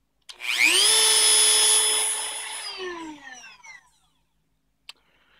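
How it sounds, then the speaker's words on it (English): A Dremel grinds down a metal lightsaber tube, one loud, high, whining burst lasting a couple of seconds that slows and drops in pitch as the tool spins down, followed by a brief click. "once I get done dremeling that"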